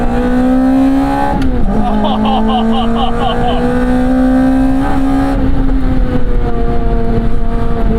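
A mid-engine sports car engine drones loudly and steadily up close, pitch rising and dipping with gear changes and throttle as it drives at speed.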